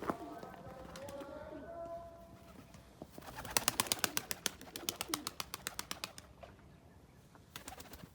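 Tumbler pigeons in flight over their coop, with a rapid run of sharp wing claps and flapping bursts at mid distance, coos and other bird calls in the background, and outdoor noise throughout.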